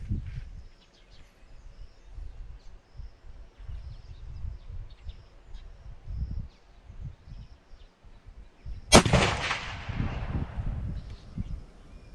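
A cold bore rifle shot fired at long range, a single sharp loud crack near the end with a ringing decay, following a stretch of quiet outdoor ambience and faint rustling.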